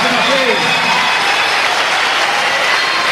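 Congregation applauding loudly at an evangelical church convention service, a steady dense wash of clapping filling the whole moment, close and full, with crowd voices mixed in.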